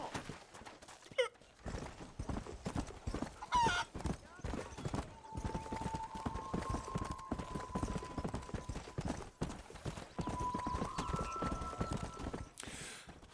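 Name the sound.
horse hooves clopping, from a video game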